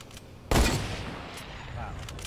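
A short sharp burst of gunfire from the video game Fortnite, with a loud report followed by a fading tail, heard over quiet game sound.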